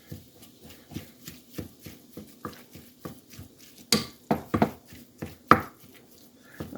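A pound of 93% lean ground beef broken up in a pan with a utensil, a regular series of soft scraping taps and clacks against the pan, close and fairly quiet, with a few sharper knocks.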